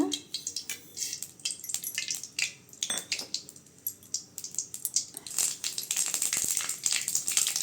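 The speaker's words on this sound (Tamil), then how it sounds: "எண்ணெய் நல்லா காஞ்சதும் கடுகு போட்டுக்கலாங்க" Mustard seeds splutter and pop in hot oil while tempering for a ridge gourd stir-fry, a dense crackling of sharp irregular pops that thickens into continuous sizzling toward the end.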